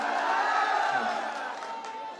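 Crowd at the Rahas fair in Garhakota shouting and cheering together, a loud sustained roar of many voices that eases off slightly toward the end.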